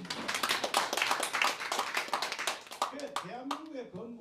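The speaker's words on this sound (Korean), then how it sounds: "박수 칩니다" An audience at a Korean church policy forum breaks into a dense burst of applause that fades out after a few seconds as a voice carries on speaking over the last scattered claps.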